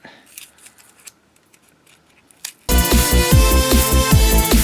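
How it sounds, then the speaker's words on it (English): Scissors snip through the eye area of a handmade FNAF 2 Spring Bonnie mask, starting with quiet handling and then a loud, close run of rapid rhythmic cuts. "And then we can go ahead and cut this part out."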